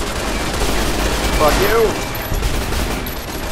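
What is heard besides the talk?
turret gunfire in video game Fallout: New Vegas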